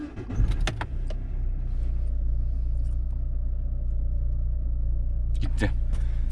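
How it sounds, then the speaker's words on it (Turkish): A car engine turns over and settles into a steady, loud low idle after a diagnostic fault-code clear, with clicks and rattles at the start and a few sharp clicks near the end. "Şimdi aracı tekrar çalıştıralım."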